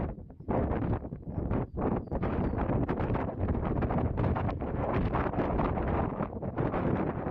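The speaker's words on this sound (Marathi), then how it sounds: "काळेझर आणि भयानक वारं सुटलंय" Strong wind buffets the microphone on a cliff edge at the historic Shikhar Shingnapur hill fort, roaring in heavy, uneven gusts throughout with no voices.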